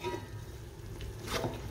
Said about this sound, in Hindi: 1 मिनट तक अच्छे तरीके से मसालों की भुनाई कर लेंगे